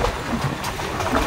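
The Ooty mountain train runs along its track, giving a close, steady mechanical rumble with faint rhythmic rattling that holds level through the short stretch, with no speech.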